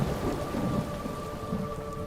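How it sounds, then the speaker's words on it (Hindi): Steady rain pours down with low rumbling thunder rolling underneath, a continuous stormy wash of sound with no voices. "हम बाहर बारिश और कड़कड़ाती बिजली की आवाज अच्छे से सुन पा रहे थे"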